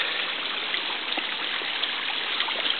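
A small waterfall flows steadily, giving a continuous mid-level rushing and splashing wash of water with no voices.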